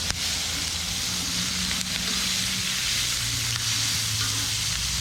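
Pork tenderloin sizzling in a very hot pan outdoors, a dense, constant hiss and crackle with a couple of faint stirring knocks, close and steady throughout.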